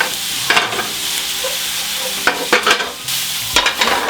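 Garlic, onion and jalapeños sizzle steadily in a pan while a utensil scrapes and stirs them in several short bursts, close and loud.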